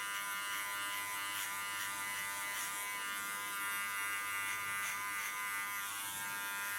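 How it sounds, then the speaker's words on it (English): A hair clipper hums in a steady high-pitched electric buzz as its blade cuts hair close up, constant and alone with faint fluctuations as it moves over the head. "And don't lean on my clipper, don't force anything on the skin."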